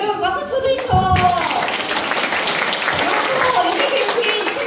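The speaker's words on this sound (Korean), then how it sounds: "여러분 박수 쳐주이소." An audience at a public lecture event applauds in a dense, sustained burst of clapping that fills the room, with a voice speaking briefly over the start.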